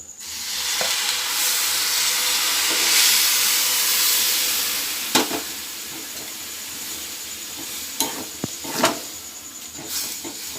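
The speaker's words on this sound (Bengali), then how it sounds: "লিকুইড দুধটা সঙ্গে সঙ্গে ঢেলে দিলাম" Liquid milk poured into vermicelli cooking in a pan: a loud hissing surge as it hits the hot pan, settling into a bubbling simmer with a few sharp scrapes of stirring later on.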